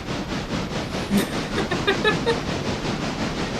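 A train rolls past in steady, moderately loud rumble with rhythmic clickety-clack and hissing, plus a few faint tonal squeals midway, no talking.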